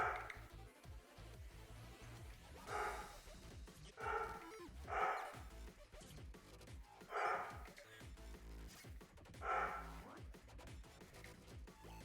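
A dog barks repeatedly in another room, several short bursts spaced a couple of seconds apart, fairly faint and distant beneath steady background noise.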